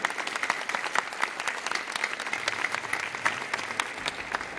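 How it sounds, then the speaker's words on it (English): An audience at a bread-baking master class gives a round of applause, crisp individual claps from a modest crowd, moderately quiet and uneven, lasting a few seconds. "Round of applause for Yoko, everybody"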